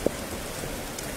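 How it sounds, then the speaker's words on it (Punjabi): Heavy rain pouring down in Ludhiana, a steady close hiss of drops hammering the surface, dense and unbroken for a brief moment. "ਪੂਰੀ ਤੇਜ਼ੀ ਨਾਲ ਮੀਂਹ ਪੈਂਦਾ ਪਿਆ।"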